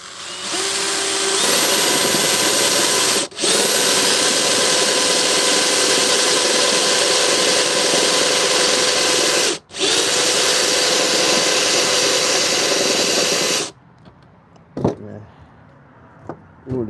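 Power drill with a fastener bit boring a hole through scrap wood for a small wooden vase, a loud steady close whine held for about twelve seconds with two brief dips, then stopping and leaving faint handling noises.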